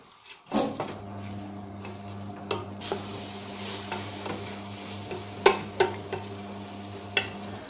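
Spices such as salt, turmeric, ginger and pepper being stirred into rice in a pot, a spoon scraping and clinking against the metal in irregular close taps over a steady low hum.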